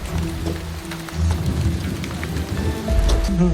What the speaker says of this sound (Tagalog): Yan, umuulan pa!